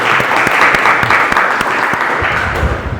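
A classroom group claps together in a dense, lively burst of applause that lasts a few seconds.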